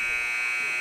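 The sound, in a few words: basketball game buzzer ending the first quarter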